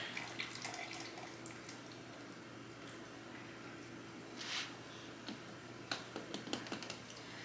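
Jalapeno juice drains from a jar of cowboy candy during home water-bath canning, a soft trickling and splashing with a few wet squishes and clinks, fairly faint over a low hum.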